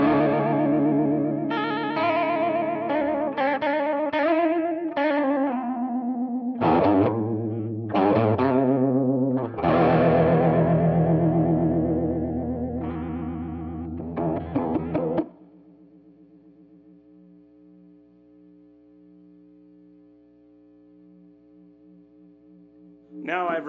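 Guitar run through an Ibanez Bi-Mode Chorus pedal with speed and width turned high, dense strummed chords with a wobbling shimmer, then a sustained chord left warbling and fading, closing with a short burst.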